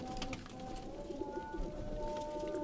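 Pigeons on a Quetta rooftop coo in soft, repeated throaty phrases, close and clear over a low steady background hum, with no talking.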